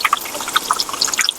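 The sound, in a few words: pouring water into green pani puri spice mixture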